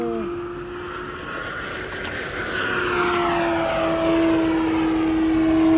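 RC model P-47 Thunderbolt warbird, a Hangar 9 Fun Scale airframe on 6S electric power, passing overhead at speed with a steady propeller drone and a rising, sweeping pitch that swells louder as it nears.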